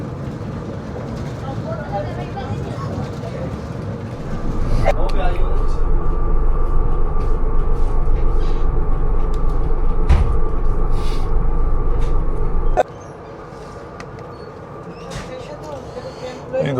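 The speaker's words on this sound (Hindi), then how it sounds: "ये अपनी परमिसिबल स्पीड पे पास हो रही है ट्रेन" Pak Business Express train running at about 100 km/h between stations, a loud, steady rumble and rush of wheels on track that swells after a few seconds and holds, then drops back to a quieter, even hum near the end.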